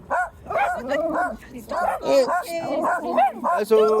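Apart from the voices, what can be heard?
dog Basil barking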